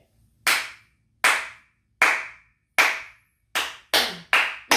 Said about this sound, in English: I'm going to clap the strong beat, so I'm just going to clap 4 beats in a row